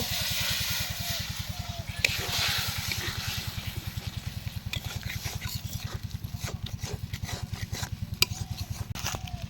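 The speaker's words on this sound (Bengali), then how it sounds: "একটু জল দিয়ে মশলাটাকে কষিয়ে নেব।" Spice paste sautéed with a little water, with a bubbling sizzle and a fast, steady run of scraping stirs against the pan, plus a low rhythmic pulsing hum throughout, close and continuous with no talking.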